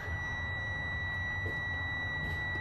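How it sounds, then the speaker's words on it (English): A continuous high-pitched parking brake warning tone from a 2021 Freightliner M2 112 truck drones steadily over low engine rumble, unchanging for the whole stretch. "it will actually beep at me and let me know that my handbrake is down"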